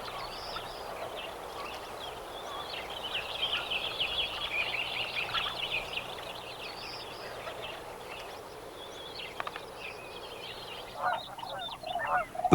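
Canada geese honk repeatedly in a wetland where cranes nest, a steady chorus of calls at moderate distance over a faint outdoor background, with no voices.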